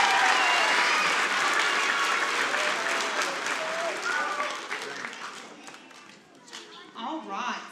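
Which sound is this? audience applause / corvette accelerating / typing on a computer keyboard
audience applause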